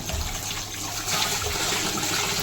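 Water running from a hose pipe into drums, a steady rushing, splashing flow that holds close and even throughout, growing slightly louder partway through.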